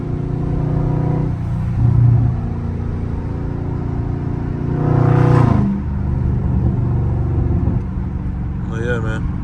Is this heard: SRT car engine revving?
yes